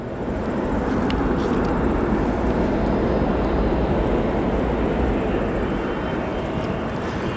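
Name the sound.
Boeing 747 arriving from Anchorage at O'Hare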